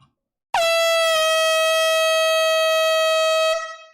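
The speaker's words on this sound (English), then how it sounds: "There's like 500 air horns being blown simultaneously." A single loud, sustained air horn blast blares for about three seconds with a steady, piercing harmonic tone, then cuts off abruptly, amid many air horns sounding at once.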